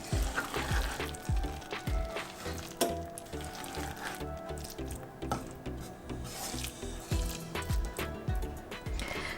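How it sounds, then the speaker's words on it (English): Garam masala gently stirred into a bottle gourd (dudhi) and chana dal curry, with soft wet scraping and light sizzling from the pan, plus a few small spoon clicks over several seconds. "we're going to add a 1/2 teaspoon of Garam Masala in here. And I'm going to mix that in gently"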